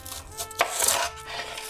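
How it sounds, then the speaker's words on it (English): A knife chops a quarter of an onion into smaller pieces on a cutting board, a few close, soft thuds and scrapes in an irregular rhythm. "I'm going to cut it into smaller pieces so that the blender has an easier time with it."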